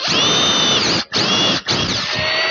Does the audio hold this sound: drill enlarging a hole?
yes